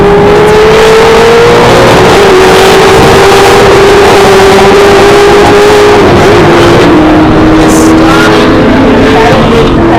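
A Mustang TransAm race car engine roars loudly and continuously, pitch sliding and holding as it gets underway, with distant engine noise blending underneath.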